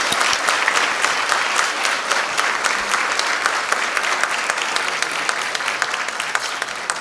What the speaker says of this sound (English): let's have a round of applause for all of our honorees in the past.